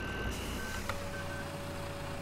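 Reversing beeps from a tractor backing up in Farming Simulator 2013, a steady series of high electronic tones repeating over a continuous low engine drone.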